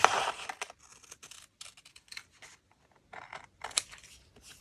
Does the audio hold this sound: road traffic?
no